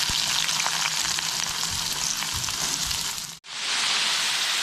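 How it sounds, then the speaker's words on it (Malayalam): Sliced onion added to hot oil with crushed ginger and garlic for an egg puff filling, frying in a pan with a loud, steady hissing sizzle and a few stirring scrapes, cut off briefly before the sizzle resumes. "ഇനി ഇതിലേക്ക് അത് മൂത്ത് വന്നിട്ടുണ്ട് ഇതിലേക്ക് സവാള ചേർത്ത് കൊടുക്കാം"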